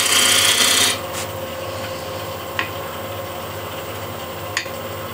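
A woodturning tool cuts dusty walnut on a lathe: a bright rasping scrape for the first second, then a steady low hum with faint rubbing and two brief sharp ticks.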